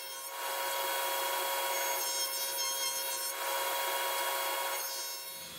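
A saw rips large wood panels in half during a hall tree build, a steady, loud continuous cutting whine that holds for about five seconds before tapering off, with no talking.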